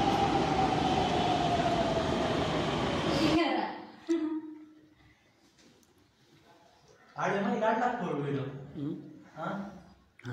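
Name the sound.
metro train ride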